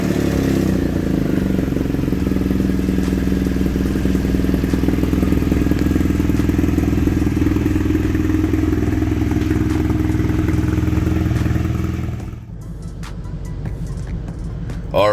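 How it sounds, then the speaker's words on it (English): A 2019 BMW R1200GS Adventure motorcycle engine runs loud and steady with a deep rumbling drone for about twelve seconds, then cuts off abruptly, leaving quieter background with a few faint clicks. "the bike that we have here is a 2019 BMW R1200GS Adventure"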